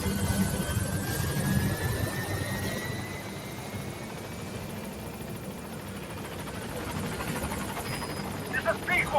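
Helicopter arriving at a landing zone in Metal Gear Solid V, a steady whirring rotor drone with a faint engine whine, loud throughout, with radio voices over it.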